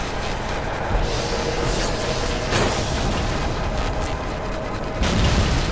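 Destruction of turrets in Halo 2 on the Oracle mission, heard as a dense, continuous roar of booms and explosions with sharper blasts near the middle and a heavier burst at the end, loud and sustained throughout.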